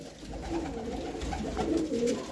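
Lakka-breed pigeons at a pigeon sale coo in soft, low, repeated throaty bursts close by, with steady murmuring cooing running through and no voices over it.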